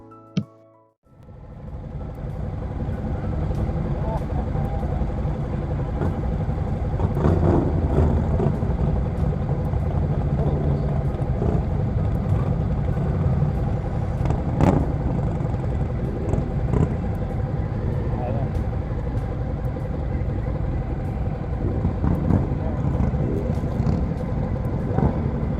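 A group of motorcycles, a Suzuki V-Strom among them, rev and pull away together. A loud, dense engine roar builds within the first second and holds steady and close throughout, with no talking heard.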